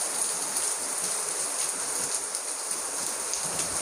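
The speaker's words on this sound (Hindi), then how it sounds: "झमाझम झमाझम, खूब तगड़ी बारिश हो रखी है।" Heavy rain pours steadily onto a waterlogged road in Sikar, a dense, continuous hiss of drops with no pauses, loud and close throughout with no voices.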